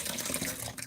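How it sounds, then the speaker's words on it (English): Warm water running from a tap into a sink, a steady close splashing stream that fills the short moment without any talk. "What I'm doing is I'm getting him some warm water"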